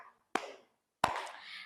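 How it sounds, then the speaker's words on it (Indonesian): Two separate hand claps in a classroom art lesson, each a sharp, close slap followed by a short ring of room echo, spaced about two-thirds of a second apart. "Jadi tepuk tangan yang pertama seperti biasa"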